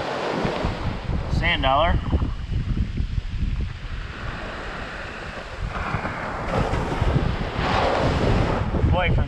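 Ocean waves on Pensacola Beach wash in as broad swells of surf, mixed with heavy wind buffeting the microphone, while a person talks briefly over the noise.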